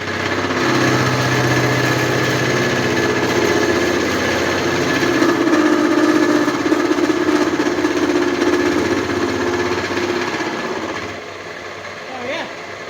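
Metal machining with a milling cutter on a welded-in part of a handmade Harley Dyna springer chopper frame, a steady loud grinding drone with rough chatter throughout that tapers off near the end.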